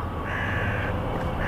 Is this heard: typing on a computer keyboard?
no